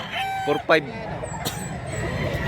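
A rooster crows once at mid range, a short strained call, against outdoor background noise at a rural market where chickens are being sold. Faint chatter and a few other bird sounds are mixed in.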